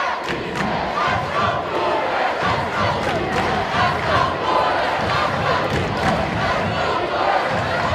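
A home crowd at a high school basketball game roars and cheers loudly and continuously, with scattered shouts rising over a dense wall of voices.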